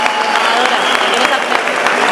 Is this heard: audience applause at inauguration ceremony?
yes